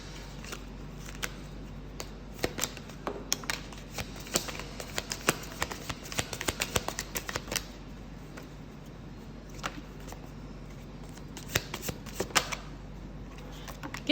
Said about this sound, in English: Let's go ahead and pull some advice cards for you